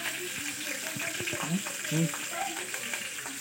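Chopped green chillies frying in hot oil, a busy crackling sizzle with scattered pops and stirring scrapes, while someone talks over it.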